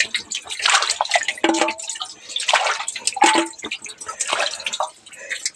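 Heavy rainwater pours from a roof gutter into a container during the rainy season, a loud, steady splashing gush with dripping and spattering over the whole stretch.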